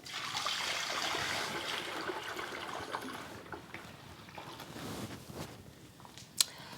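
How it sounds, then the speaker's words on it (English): A gallon of milk, made from powdered milk for mozzarella, is poured into a pot as a steady, close trickle and splash that tapers off midway, followed by light clinks and a sharp knock near the end. "we move on to just add the 1 gallon of milk"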